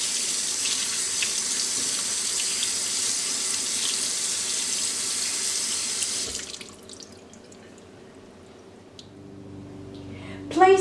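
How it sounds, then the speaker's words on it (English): Cold tap water runs steadily over salted pollock fillets in a sink, a loud continuous hiss for several seconds, then shuts off, leaving a quiet room and a few small clinks at the end. "Rinse the pollock fillets with cold water to eliminate the excess salt."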